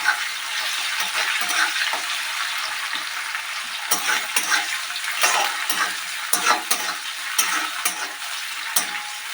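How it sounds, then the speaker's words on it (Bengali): Long thin slices of onion fry and sizzle steadily in hot oil in a pan for a Katla fish curry, with repeated scraping stirs cutting through the constant hiss. No one talks. "পেঁয়াজটা আমি কিছুক্ষণ ফ্রাই করব"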